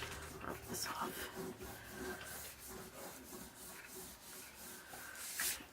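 Soft, faint hand rubbing on a surface, a brushy scratching in short repeated strokes. Quiet talking can be heard faintly underneath.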